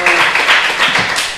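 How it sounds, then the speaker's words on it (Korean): Church congregation clapping together, a dense, brief patter of many hands, loud and close, with no voices. "우리 하나님께 감사의 박수 드리겠습니다"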